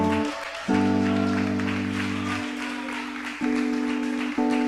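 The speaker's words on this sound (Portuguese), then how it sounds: "a igreja que assim concorda, aplaude a Jesus Cristo" A church congregation applauds during a prophetic conference service, a steady wash of clapping running under sustained keyboard or organ chords that shift pitch a few times.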